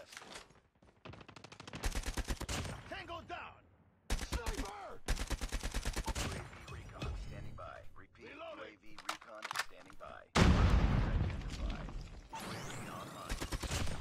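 Video game gunfight with bursts of rapid automatic fire and single shots, loud and close, cutting off abruptly between volleys, while someone talks over the shooting.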